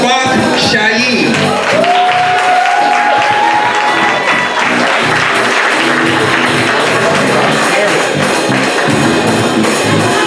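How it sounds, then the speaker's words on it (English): A Harrisburg café crowd at a fourth-anniversary gospel showcase gives loud, sustained applause for spoken word performer Nafak Shaim, with cheers and shouts mixed into the clapping and voices calling out over it. "please everybody, give a huge round of applause"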